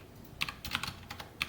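Computer keyboard typing, with a short burst of close, light key clicks in an irregular rhythm and no speech over it.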